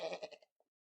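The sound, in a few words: goat bleating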